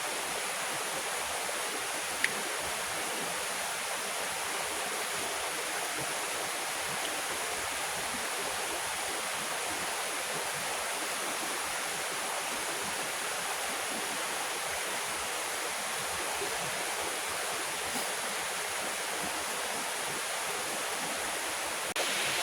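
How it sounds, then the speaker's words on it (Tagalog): A flowing stream rushes steadily and evenly, a constant close wash of water with no pauses or other sounds over it. "Duyan ka lang dyan, makakatulog ka dyan sa tunog ng tubig niya."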